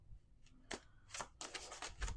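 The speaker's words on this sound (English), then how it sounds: "Let's do one more shuffle" Quick bursts of tarot cards riffling and slapping together, several shuffles in a row, close and fairly quiet.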